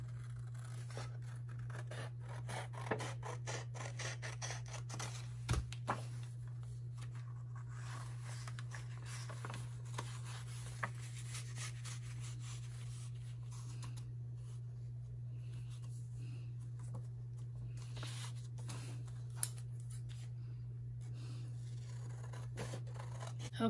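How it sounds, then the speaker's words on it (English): Scissors snip away a bent corner of paper for a junk journal pocket, giving faint, sparse cuts over a steady low hum in a quiet room. "Let me just trim off that bent corner."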